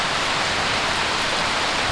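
Heavy rain falls outside as a steady, dense, even hiss with no breaks, loud and close, with no talk.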